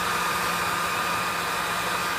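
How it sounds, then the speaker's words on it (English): A hair blow dryer runs on its low setting, a steady, unbroken airy whoosh with a faint motor hum, close by and alone without any talk. "So let's do the blow dryer."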